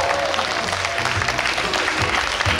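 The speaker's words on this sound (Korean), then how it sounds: "다시 한번 큰 박수 부탁드립니다" An audience at a live jazz trio performance applauds, a dense continuous clapping that stays steady for a few seconds with a faint murmur of crowd mixed in.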